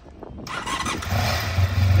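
A Honda RC30 motorcycle engine fires up and runs close by, going from a cranking rumble to a loud, steady idle with slight revving.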